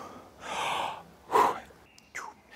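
A person breathes deeply during a meditation session: one long soft exhalation, then a sharper, louder gasp-like breath and a brief final puff, close and otherwise quiet.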